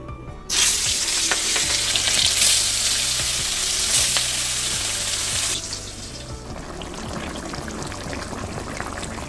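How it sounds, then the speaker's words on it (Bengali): Fish frying in a pan gives a loud, dense sizzle that starts abruptly after half a second, holds steady, then drops to a quieter, softer crackle for the last few seconds. No one speaks. "এখন মাছটা ভাজা বসিয়ে দেবো।"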